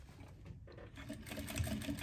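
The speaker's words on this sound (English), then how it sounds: "So now I'm going to sew concentric circles around the brim of the hat." A sewing machine stitches concentric circles around the brim of a bucket hat made from a vintage quilt, a quiet, steady mechanical whir heard alone and close for a couple of seconds.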